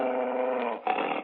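A dog growls in a classic horror radio drama, a low, throaty snarl that runs continuously and close, with a brief break before a rougher, harsher growl resumes.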